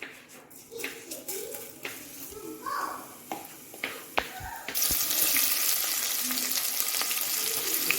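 Cumin and onions frying in oil, scattered clinks and soft sounds giving way to a loud, steady hiss of sizzling near the end, with some background noise.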